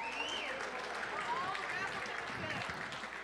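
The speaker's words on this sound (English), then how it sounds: "Give Mike Robinson a nice big round of applause" Guests at a sports celebrity charity event in Rockford clap for a speaker, a moderate round of applause mixed with crowd chatter and a high whistle-like tone rising above it.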